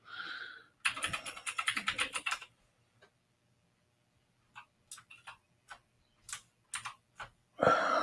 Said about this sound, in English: I'm going to have to type that